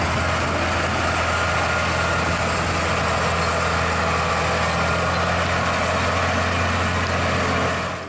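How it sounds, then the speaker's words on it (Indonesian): A toy trailer truck gives off a steady, continuous engine idling hum that stays loud and even throughout, with no talking. "Di sini ada mobil truk gandeng"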